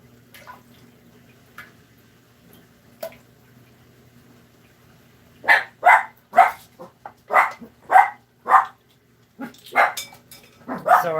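Puppies bark in a home kitchen, a few faint yips at first, then a rapid run of sharp, fairly close barks against a low background hum.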